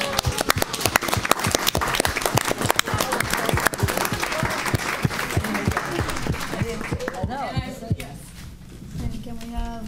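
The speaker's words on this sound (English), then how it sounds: "Can we give Courtney a round of applause?" Audience applause for a student named Courtney at a school event, a dense burst of many hands clapping with cheering voices mixed in, tapering off near the end as talk returns.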